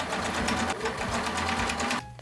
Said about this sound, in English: And now, the second layer of sewing.